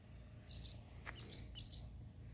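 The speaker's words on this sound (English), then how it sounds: "This sparrow here flying around, she's a dive bomber." A small bird chirps a few quick, faint tweets outdoors, with a short sharp click in between and low background rumble.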